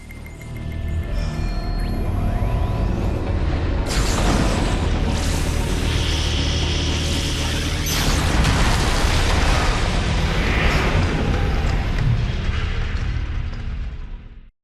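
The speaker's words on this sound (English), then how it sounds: "The ion cannon's been engaged, sir." An ion cannon strike from Command and Conquer 3 builds into a long, loud, roaring explosion with rumbling blasts and sweeping tones that hold steady for about fourteen seconds before cutting off.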